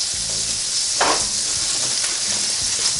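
Bratwurst and buns sizzle on a NuWave Primo grill plate, giving a steady, close frying hiss with a brief scrape as food slides across the hot surface.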